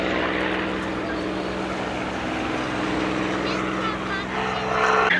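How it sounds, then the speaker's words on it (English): A Supermarine Spitfire PR XI takes off at Duxford, its propeller engine giving a broad, steady roar that swells toward the end, while a commentator talks over it. "Here at Duxford as the Spitfire PR-11 gets airborne"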